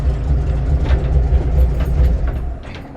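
Engine of a 1964 Ford F100 shortbed with redone Mickey Thompson valve covers, a deep steady low rumble close by that eases slightly in the final half second as it is shut off.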